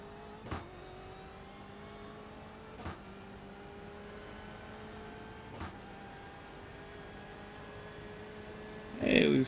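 A BMW race car lapping Road America, heard as a steady droning engine tone from inside with a few periodic knocks and a brief louder burst at the end.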